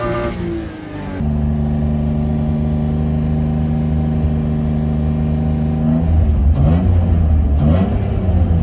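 BMW E36 engine idling then held at a steady raised rev to warm up, a loud close drone that settles back toward idle near the end, no talk.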